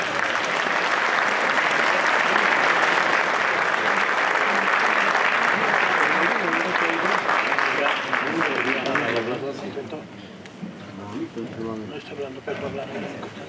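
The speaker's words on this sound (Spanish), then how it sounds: "Lo recibimos con un fuerte aplauso." Loud, sustained applause from an audience at a military band ceremony greets a brigadier general taking the stage, steady for about nine seconds before thinning out into scattered clapping.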